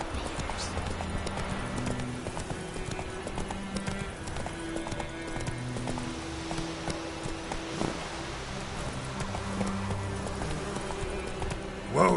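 Hooves of Roach, a horse in The Witcher 3: Wild Hunt, clip-clop in a steady trot through the whole stretch, close and even, over a bed of in-game music and ambience.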